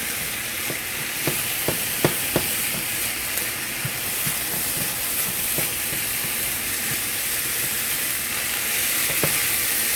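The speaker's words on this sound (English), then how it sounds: "it says stir fry for a minute" Low carb meal prep being stir-fried in a pan: a continuous dense sizzle with regular light clicks and scrapes of a utensil stirring, steady and close, without speech.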